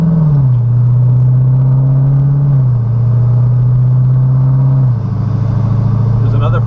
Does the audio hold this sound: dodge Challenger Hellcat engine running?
yes